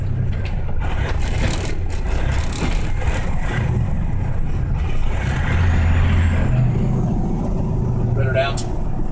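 A heavy truck downshifts and brakes on a downhill grade during a driving lesson, its engine rumbling low and steady throughout with brief hissing air-brake bursts, and voices talking over it.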